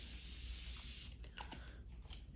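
Morphe Continuous Prep and Set Mist sprays onto a face in a steady, close, hissing burst lasting about a second, followed by a few faint rustling and tapping sounds.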